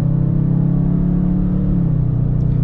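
A 2017 Dodge Charger R/T's engine hums steadily from inside the car, a deep, close rumble whose pitch shifts slightly as it accelerates, with no one speaking.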